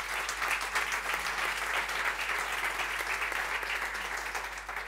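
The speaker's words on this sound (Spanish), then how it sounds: "Así que un aplauso para él, solo para Santiago Segurola." Audience applause for a guest sports journalist at a literature and football event, an even, sustained round of clapping from a crowd throughout.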